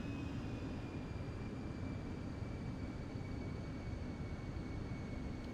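A plane flies in Microsoft Flight Simulator, giving a faint, steady engine drone with a low rumbling wash and thin whining tones running evenly throughout, no voices.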